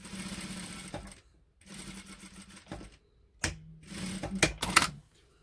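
A sewing machine stitches a zipper onto a lace gored skirt, running loudly in several bursts separated by short pauses, with sharp mechanical clunks between the runs.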